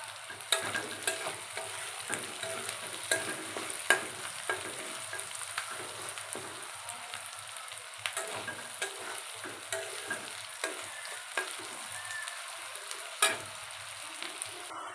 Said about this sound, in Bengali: ভালো করে পেঁয়াজের সাথে চিংড়ি মাছটা ভাজা নিতেছি।